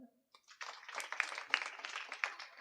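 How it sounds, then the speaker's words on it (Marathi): A kirtan audience claps together in a brisk burst of applause lasting a couple of seconds, dense and fairly close, with a few sharper claps standing out. "टाळ्या वाजवा"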